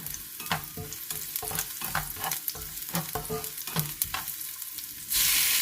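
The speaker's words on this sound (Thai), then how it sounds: "สาวจะใส่แครอทลงไปผัดตอนนี้เลยนะคะ" Carrots and garlic are stir-fried in hot oil in a pan, with a continuous close sizzle broken by rhythmic scraping and tossing strokes, and a brighter hiss surging at the very end; no one speaks.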